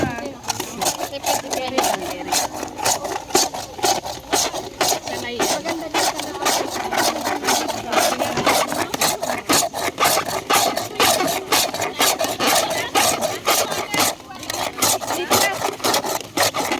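A manual ice shaver scrapes ice for halo-halo outdoors in a park, making a loud, continuous rhythmic rasping and grinding close by while people talk over it.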